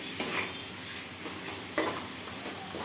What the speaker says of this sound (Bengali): তো এটাকে আমি মশলাটাকে ভালো করে কষাবো, পুরো যতক্ষণ তেল ছেড়ে না আসে, পুরো ভালো করে কষাতে থাকবো।